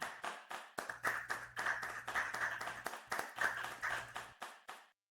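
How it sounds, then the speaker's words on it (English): A small audience at a metaverse panel event claps for the panelists, a sparse run of distinct individual hand claps for about five seconds, close and moderately quiet, ending abruptly. "So let's give a clap to everybody here."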